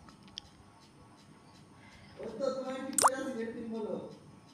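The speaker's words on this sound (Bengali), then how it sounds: "এখন আমি এগুলোকে তুলে নেব একটু নেড়ে চেড়ে।" Fried fish pakoras are stirred and lifted from the pan with a strainer, giving a soft burst of scraping, a sharp metallic clink and wet plopping in the middle of an otherwise quiet kitchen.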